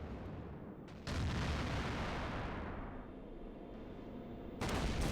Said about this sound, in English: Hopefully their 85mm AA guns won't shoot too many of them down.